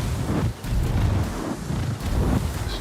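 A torpedo strikes a warship in World of Warships, and the hit lands as a heavy, rumbling boom. Several deep surges swell and fade over a couple of seconds with no voices.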